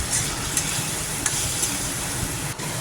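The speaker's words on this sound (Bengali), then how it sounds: "ভাজা পটলগুলো দিয়ে বেশ খানিকক্ষণ কষিয়ে নেব" Fried pointed gourd stir-fried in a spice paste sizzles steadily in a pan, with a few sharp spoon scrapes and stirring knocks breaking the continuous hiss, close and fairly loud, no voices.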